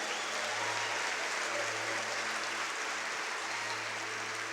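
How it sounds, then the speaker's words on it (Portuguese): A church congregation applauds loudly for Jesus in a worship service, a dense, steady roar of many hands clapping at once that holds for several seconds with no voices over it. "Aplauda Jesus bem forte."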